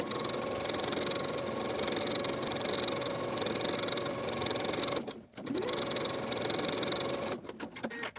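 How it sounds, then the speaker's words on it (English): Sewing machine running a zigzag top stitch on fabric, a steady continuous whirring drone close by, briefly pausing near the middle and stuttering toward the end. "I'm going to be using a zigzag stitch."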